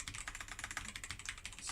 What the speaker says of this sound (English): I'm going to do a side-by-side comparison of what each keyboard sounds like by themselves.